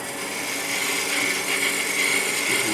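A wood lathe spins at around 1300 rpm while a 1/8 inch M42 beading tool cuts beads into the bottom of a wooden birdhouse, giving a steady, close scraping hiss.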